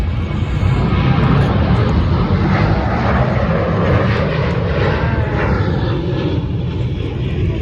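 Ryanair airliner taking off from an airport runway, a loud, sustained jet engine roar that fills the scene and stays strong from start to finish, heard alone without talk.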